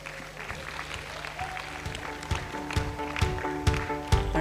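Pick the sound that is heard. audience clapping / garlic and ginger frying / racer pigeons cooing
audience clapping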